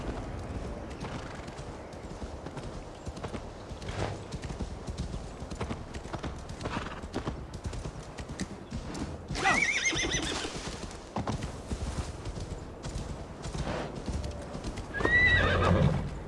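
A horse in Assassin's Creed Valhalla gallops with steady rhythmic hoofbeats, letting out a sharp neigh midway and another whinny near the end, with a game score underneath.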